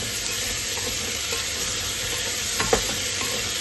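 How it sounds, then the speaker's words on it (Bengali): Potatoes and onions frying in a pressure cooker while being stirred, a continuous close sizzle with a couple of short scraping knocks near the end. "এবার আমি একটু নাড়িয়ে নেব।"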